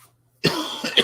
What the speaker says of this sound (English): I'm just coughing because something's stuck in my throat